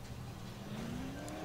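A car driven through a Dead Island game level, with a steady low engine drone and a slowly rising rev tone, faint and continuous across the whole short stretch.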